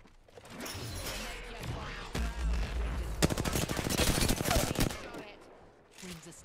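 Rapid bursts of video game gunfire crack out in dense, loud volleys, with a voice faintly underneath.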